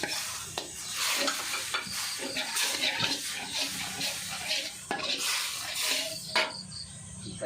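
Sizzling and scraping of a spatula stirring curry paste in a hot wok for a spicy frog stir-fry, continuous and close, with occasional clinks of metal.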